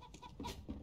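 Chicken clucking inside a tactical first-person shooter game on the Nuke map, a few short clucks at moderate level over background game noise, without speech.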